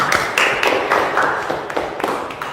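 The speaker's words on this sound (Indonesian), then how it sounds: "beri tepuk tangan yang luar biasa" A classroom group claps in a short burst of sharp, uneven hand claps lasting a couple of seconds, close and fairly loud.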